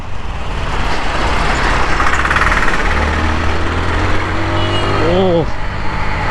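A 2022 TVS Apache RTR 160 4V motorcycle is ridden in sport mode, giving a steady low engine drone under heavy wind rush. A brief rising whine comes near the end.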